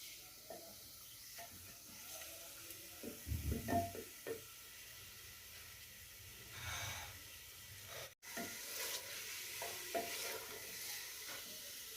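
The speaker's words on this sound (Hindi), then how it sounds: "चिकन को हम लहसुन में 10 से 15 मिनट भून लेंगे" Steady sizzling and hissing from chicken frying with garlic in a karahi, with occasional stirring scrapes, fairly quiet and continuous.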